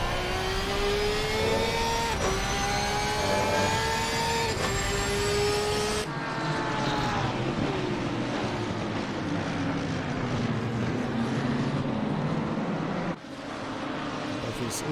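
GT3 race cars, BMWs and a Porsche, roar down a straight in a racing video game, loud engines revving and shifting as they pass close by, with faint commentary talk underneath.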